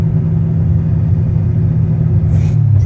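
A big-cam diesel engine with a manual transmission rumbles loud and steady, pulling through the gears with a low, continuous drone and a brief rise near the end.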